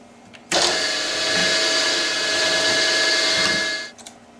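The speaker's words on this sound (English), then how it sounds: "I'm using the 120 degree starter drill," A 120 degree spotting drill on a milling machine spins up abruptly and grinds steadily with a loud whining hum for about three seconds, then winds down and stops.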